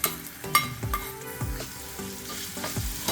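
Ginger and garlic sautéing in a pan for a bhelpuri chutney: a close, bright sizzle broken by several quick scrapes of a spoon across the pan, short and without speech.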